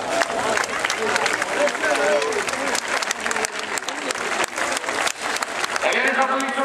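Sustained crowd applause fills the stands at a course landaise bullfighting event in Hagetmau, dense clapping continuing steadily throughout, with a voice over the loudspeaker faintly under it.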